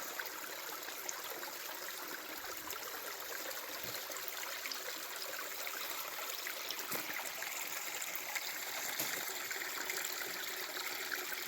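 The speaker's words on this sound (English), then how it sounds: "This is a little side creek." A small side creek flows near an old mine, a continuous close rushing and trickling of water that stays steady throughout with no voices.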